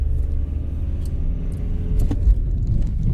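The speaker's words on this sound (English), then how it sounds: "can we do a nice 360 handbrake turn in this car park?" A car in a car park doing a 360 handbrake turn, a loud low engine rumble throughout with a heavier surge partway through, close by and short.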